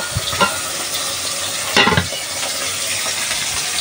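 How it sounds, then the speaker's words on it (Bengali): Small puti fish frying in a pan, a close steady sizzle broken by a few stirring scrapes and clinks, one louder burst of spatter midway; no talking. "তো মাছগুলো হালকা একটু ভাজি"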